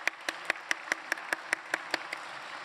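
Audience at a Korean church gathering applauding children, heard as about eleven evenly spaced, crisp claps in a steady rhythm, fairly close and clear, with no talk over them.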